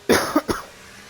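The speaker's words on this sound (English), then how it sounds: "Apologies there for coughing." Three quick, sharp coughs from a commentator during an F1 23 Singapore league race broadcast, close to the microphone, followed by a quiet room.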